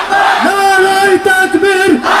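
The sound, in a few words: crowd shouting 'Allahu Akbar' in response to 'Nara-e-Takbir'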